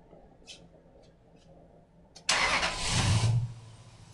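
A car engine cranks briefly and catches, settling into a steady idle after a short, loud burst, with a few faint clicks beforehand.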